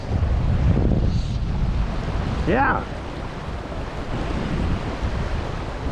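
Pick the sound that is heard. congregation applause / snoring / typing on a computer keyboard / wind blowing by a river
wind blowing by a river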